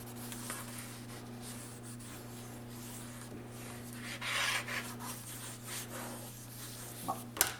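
Folded paper for a pop-up folio being pressed and rubbed down by hand: soft, close, faint scraping and brushing strokes over a steady low hum, ending in a small tap.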